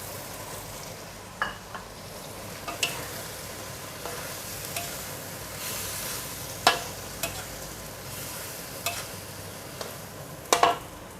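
Spring onions and celery stir-fried in a pan for sweet and sour pork, a steady close sizzle broken by scattered sharp clinks and scrapes of a utensil against the pan, with no talking.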